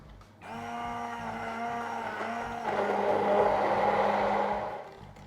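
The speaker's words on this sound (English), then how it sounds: "Now we're just going to blend everything together until combined." An electric blender whirs steadily, mixing vanilla and caster sugar into red velvet cake batter, loud and close. It starts abruptly, steps up to a stronger roar midway, then cuts off.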